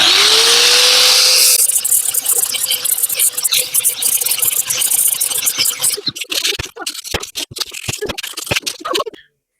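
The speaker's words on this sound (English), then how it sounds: "now I'm gonna use just the grinder to make all the corners rounded and smoother" A grinder rounds and smooths the corners of a wooden sword. A loud, close, steady whirring grind with scraping sounds spins down midway, and then a series of sharp knocks and rattles follows.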